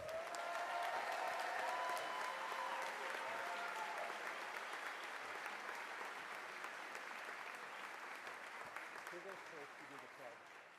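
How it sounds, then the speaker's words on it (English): Audience applause at a fifth grade celebration, a steady dense wash of clapping from a crowd of families and friends that fades slightly over time, with faint voices in the background. "If we can have another round of applause for our fifth graders."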